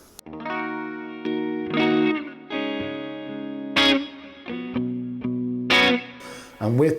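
Electric guitar through the Amplitube 5 amp simulator on its clean channel, ringing chords struck one after another with sustain and light chorus, each fading before the next, no voice.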